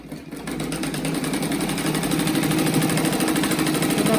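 A sewing machine runs steadily, stitching around the edge of a rug made from reused fabric, with a continuous close mechanical hum and rapid needle rattle that holds for about four seconds without talk.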